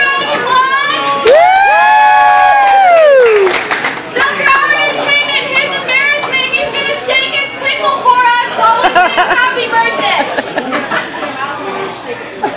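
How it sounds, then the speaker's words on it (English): A restaurant crowd at Hooters cheers loudly for a 16th birthday, with a long rising whoop, shouts and lively overlapping voices for several seconds, plus some scattered clapping. "Can I get a round of applause?"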